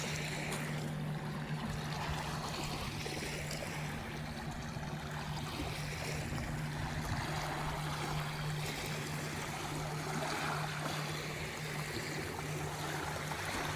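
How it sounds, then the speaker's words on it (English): Small waves from passing pontoon boats lap and trickle along a river's edge, a steady close watery wash over a low constant engine hum, with no talking. "here come the cool waves that I like"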